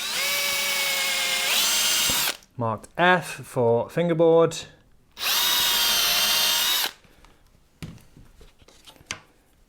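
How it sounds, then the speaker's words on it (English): A power drill whines at high speed in two long bursts, boring holes into wood through a fingerboard locating jig, with someone speaking briefly between them. "I'm going to drill the holes"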